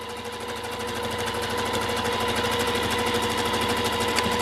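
Sewing machine stitching a rag quilt made of quilters' weight cotton, a fast steady mechanical clatter running continuously and close.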